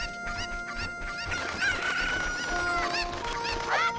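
Chickens in the video game Ocarina of Time cluck and squawk in a busy run of repeated calls, with a crowing-like cry near the end and steady game music humming underneath.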